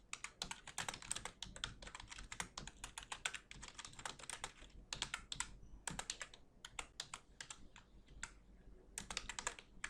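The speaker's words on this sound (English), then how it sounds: "I'm writing down my first line that we discussed" Continuous typing on a computer keyboard while writing HTML in Notepad++, rapid close key clicks in irregular bursts separated by brief pauses, alone without talk.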